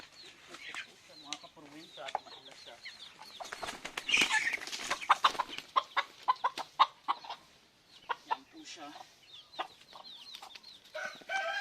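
A large, long-legged cross-breed hulo rooster is handled up close, giving repeated clucks and squawks with bursts of wing flapping and rustling as it struggles.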